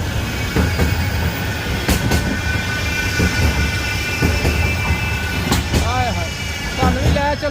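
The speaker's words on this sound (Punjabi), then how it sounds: "ਗੱਡੀਆਂ ਵੀ ਨਾਲ ਤੇ ਨਾਲ ਟ੍ਰੇਨ ਵੀ ਹੈ ਜੀ" A train runs alongside a road in Oldham, its steady rumble and rhythmic wheel clatter continuous and fairly loud, with road traffic around and people talking over it.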